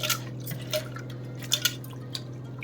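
Water drained off washed prawns, tipped from a bowl in a few dripping splashes and trickles close by, with a steady low hum behind.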